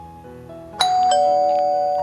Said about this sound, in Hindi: डोरबेल की आवाज